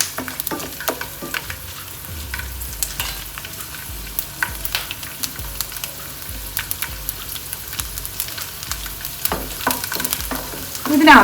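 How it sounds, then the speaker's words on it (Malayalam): Eleven dried red chillies fry in a pan, with a steady close crackle, frequent sharp pops and spatters, and stirring scrapes throughout, rising louder right at the end. "ഇത് നല്ലതുപോലെ ഒന്ന് ഫ്രൈ ആയിക്കോണേ"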